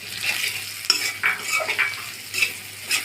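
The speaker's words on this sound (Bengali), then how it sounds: "মশলাগুলি ভালোভাবে কষিয়ে নিব।" Spices are sautéed in a pan for chickpea dal curry: a steady close sizzle with repeated scraping stir strokes for about three seconds, no voices.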